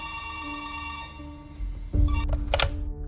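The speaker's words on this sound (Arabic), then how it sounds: "وفجأة تليفون المطبخ رن." A kitchen telephone in a small, empty restaurant at night gives a brief ringing burst over a low, sustained musical drone.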